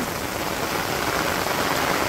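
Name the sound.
rain falling in a Bangladeshi village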